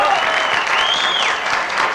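A loud, dense burst of applause from a crowd, steady throughout with a faint whistle rising over it.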